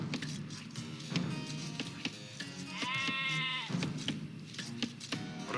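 A sheep bleats once near the middle, a clear, loud, wavering call lasting about a second, in Age of Empires II Definitive Edition, with quieter game sounds before and after.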